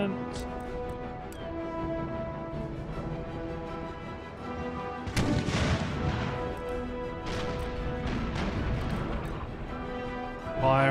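Ship cannons fire a broadside in Empire: Total War during a naval battle, a heavy rolling burst of booming shots around the middle over steady battle ambience and game music, with a second cluster of blasts following and voices talking throughout.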